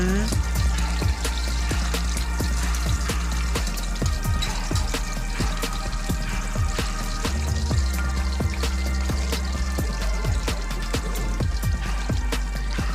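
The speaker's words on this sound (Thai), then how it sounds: "เสร็จแล้วเราก็ใส่ กระเทียมนะคะ กับพริกซอยค่ะ ไป ผัดให้หอมนะคะ" Garlic and sliced chili stir-fry in hot oil in a pan, a steady, close sizzle running the whole time with frequent small crackles and pops and a spatula scraping now and then.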